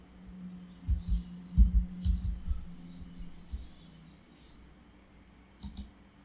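Computer keyboard typing and mouse clicks while searching for command prompt on a PC, a burst of close, quick clacks early on, quieter scattered taps, then a final cluster of clicks near the end, with a low hum underneath.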